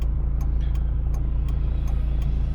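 Car traffic on a city road on a driving-exam route in Chernihiv, heard as a loud, steady engine and road drone with a faint, regular ticking throughout and no speech.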